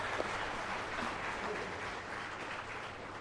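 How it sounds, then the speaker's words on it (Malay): Applause from an audience at a Universiti Malaysia Kelantan academic forum, a steady, even clapping that fills the whole moment with no voices on top. "Bagi tepukan."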